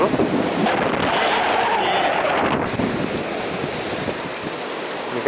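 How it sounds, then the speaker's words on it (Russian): Waves washing on a reservoir shore, a loud, close churning of water with heavy wind buffeting the microphone, continuous throughout. "Волна на водохранилище. Вот волна."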